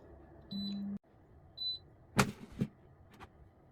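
Electric air fryer being set to 140°C for 15 minutes: a steady tone sounds, then a couple of short electronic beeps, followed by a few soft clicks and taps of the controls in a quiet room.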